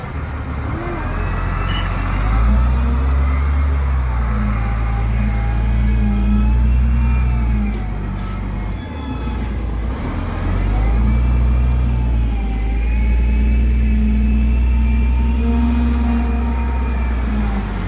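A motorcycle engine idles and runs steadily close by on a residential lot being filled with soil, its low rumble continuous throughout while voices talk over it.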